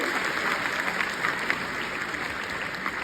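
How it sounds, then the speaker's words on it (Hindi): Steady applause from a crowd at a film trailer launch at a college in Pune, continuous clapping at a fairly faint level, sustained throughout without pause. "प्लीज जोरदार तालियां हो जाए आप सभी लोग के लिए।"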